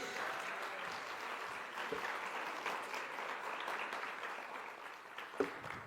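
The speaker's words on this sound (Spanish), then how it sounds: "si usted le va a dar aplauso, déselo fuerte a Dios" Steady applause from a church congregation fills the whole stretch at an even, fairly loud level, with a sharper clap standing out near the end and no voices over it.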